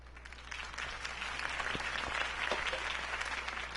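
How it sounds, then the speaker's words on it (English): Steady applause from a crowd at a Harvey Dent campaign rally in the Batman Telltale Series video game, dense continuous clapping throughout with a low hum beneath. "If only Mr. Wayne, my campaign's largest backer, could have heard that applause"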